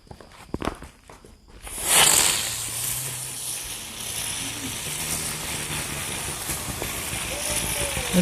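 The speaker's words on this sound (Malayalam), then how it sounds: "ബട്ടർഫ്ലൈ പടക്കം അപ്പോൾ ഇത് കത്തിച്ചാൽ പൂമ്പാറ്റ ആവുക നോക്കാം" A butterfly firecracker is lit and burns with a loud, steady hiss that starts sharply and carries on to the end, after some faint shuffling beforehand.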